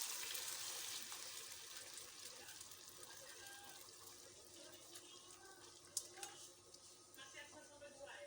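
Shrimp broth is poured through a kitchen strainer, a faint, steady trickling and splashing of liquid with a few small clinks, under low background noise and some quiet speech.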